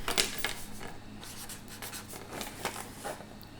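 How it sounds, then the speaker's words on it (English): Close marker or chalk strokes writing on a board, a series of short scratchy squeaks and scrapes in an irregular rhythm with brief pauses between words. "let me write it on this first"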